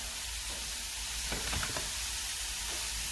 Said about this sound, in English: Heat oil and start frying onions.